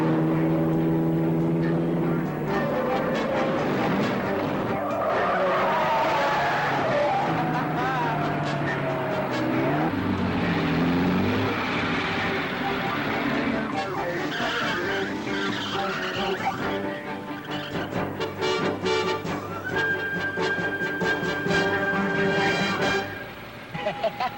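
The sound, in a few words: car skidding and fancy driving in Nancy Drew video game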